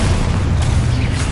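A thick, loud blast from the Expulso spell in Hogwarts Legacy, a dense booming burst that fills the whole short moment without letting up.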